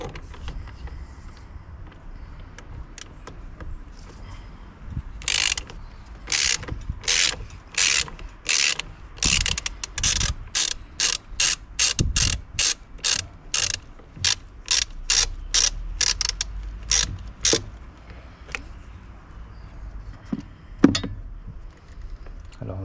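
A ratchet unscrewing a part in a car engine bay, while a rodent-deterrent box is fitted, makes a close run of sharp, rhythmic clicking strokes that speed up in the middle and trail off into scattered knocks.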